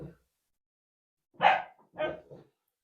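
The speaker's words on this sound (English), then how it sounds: "It's the dog again." A dog barks three times in quick succession, a short yelp followed by two fuller barks, fairly close and moderately loud against otherwise silent surroundings.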